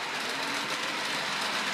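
Model railway train running along its track, a steady, close whirring rumble with faint rhythmic clicking from the wheels, continuous throughout with no talking.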